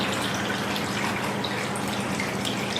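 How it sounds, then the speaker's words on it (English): Water poured steadily through a funnel into a container holding ProArgi-9 Plus powder, a continuous rushing splash from start to finish with no talking. "all you're going to do is just add your water to it"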